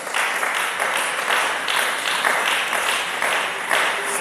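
A church congregation applauds in praise, a steady wash of dense clapping from many hands that holds at full strength for the whole stretch, with no voices rising above it.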